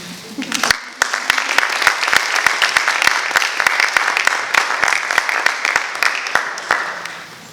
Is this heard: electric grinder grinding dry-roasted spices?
no